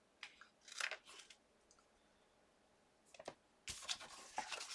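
Scissors snipping paper while trimming a piece for a two-envelope booklet, faint close crisp cuts in short clusters over a quiet background hiss, ending in a louder run of rapid snips.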